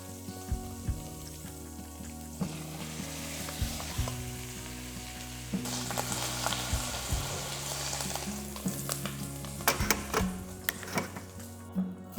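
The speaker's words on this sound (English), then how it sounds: "In the same pot, add chopped onions and fry until they turn golden" Chopped onions fry in olive oil in a pot, giving a close crackling sizzle with bursts of stirring and scraping against the pot, along with occasional clinks.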